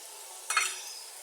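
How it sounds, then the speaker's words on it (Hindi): Masala for chicken biryani fries in a pot, giving a brief burst of sizzle as it is stirred, close and otherwise quiet, with no talk. "अब हम इसको भूनेंगे मसाले को अच्छी तरह से"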